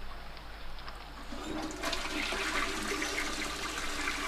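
A toilet flushes in the horror video game Your Toy, with rushing water that builds and holds loud and close over a low steady hum.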